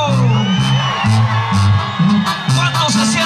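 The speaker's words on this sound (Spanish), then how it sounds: "¡Aviéntese un grito!" At an event in Ciudad Guzmán, Jalisco, a large crowd shouts, whoops and cheers in answer to a call from the stage, their loud overlapping yells rising and falling in waves under amplified music.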